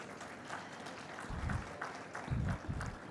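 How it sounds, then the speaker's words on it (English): An audience at the India Defence Conclave 2024 claps in a few scattered bursts that swell and fade, moderately distant and fairly soft, with a quieter room tone between the waves. "Can I have a round of applause for him,"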